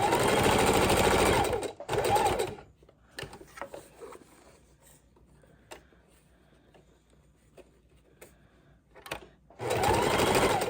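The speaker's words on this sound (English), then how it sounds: "Keep that lace out from under the needle and the thread." Sewing machine stitching lace trim onto a junk journal cover, its motor running in loud steady bursts at the start and end with a quieter stretch of faint handling sounds between.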